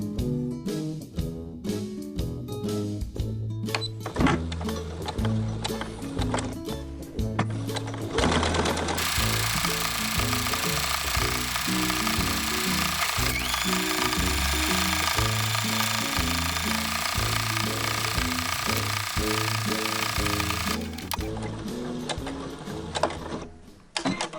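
A sewing machine stitches a fleece neck warmer, first in short rhythmic bursts of rapid ticking, then in one long continuous loud whirring run before slowing and stopping, close and alone.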